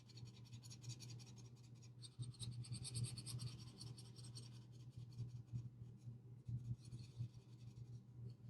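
A blender pencil burnishes colored pencil on paper in a coloring session, a soft continuous scratchy rubbing with short bursts of quicker strokes, close and quiet, with no talking.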